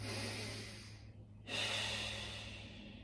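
Slow, audible breathing during a Pilates stretch: a long, airy exhale, a brief quiet pause, then a deep inhale, close and soft with no talking.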